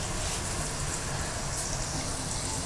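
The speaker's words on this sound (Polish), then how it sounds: "Deszcz zaczął padać, wiesz, i nas uratował troszkę." Steady rain falls in a colony survival video game, a dense, even hiss of drops that holds constant and fairly loud throughout with no talk.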